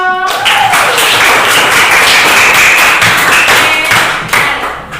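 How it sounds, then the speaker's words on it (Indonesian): Classroom group applause for a student called to the front, loud and close with a busy, continuous patter of many hands that tapers off near the end. "Oke, tepuk tangan dulu untuk Sandro."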